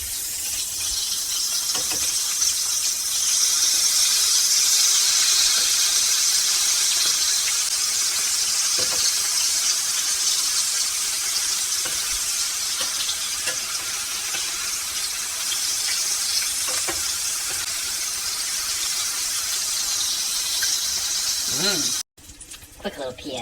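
Sesame chicken pieces frying in hot oil after being flipped, a steady bright sizzle and hiss running continuously with light crackles, cutting off briefly near the end.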